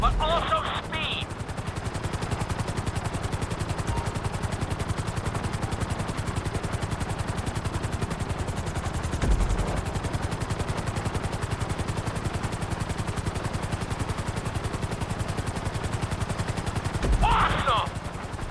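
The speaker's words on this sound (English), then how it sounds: "we'll see how well you handle the chopper" A helicopter flies through a flight-school course in Grand Theft Auto V, its rotor chopping in a loud, continuous fast pulse for the whole stretch, with brief louder bursts near the start, middle and end.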